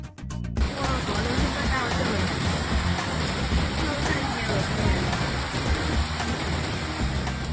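Heavy rain pours steadily onto a surface where rats are bathing, a dense, loud, unbroken wash of splashing water that starts abruptly and continues throughout.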